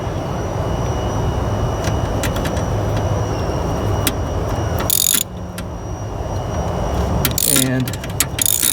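Ratchet clicking steadily while loosening the serpentine belt adjustment bolt on a 2002-2006 Toyota Camry V6, close and fairly faint under a continuous background hum, with a brief louder burst near the end.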